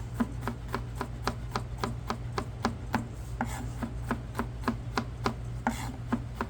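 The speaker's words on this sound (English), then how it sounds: "we're going to give these just a rough chop" A knife roughly chopping ingredients for teriyaki soy-sauce pork skewers on a board, steady rhythmic knocks about twice a second, close and clear, with a low steady hum underneath and no talking.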